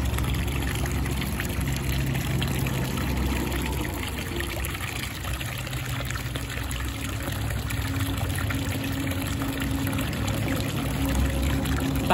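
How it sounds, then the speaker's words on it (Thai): A 12 V DC water pump running off a battery and solar charge controller, pumping water in a steady, unbroken pouring and splashing rush with a constant hum beneath, loud and close throughout, no voices. "ปั๊มน้ำเราก็ยังทำงานอยู่นั่น"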